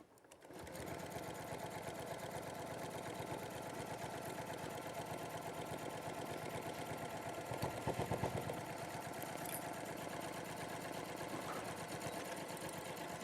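A sewing machine stitches PU fabric in a fast, even mechanical whirr that runs steadily from start to finish, briefly a bit louder midway, with no voices.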